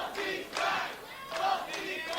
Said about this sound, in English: Look at the crowd showing the respect.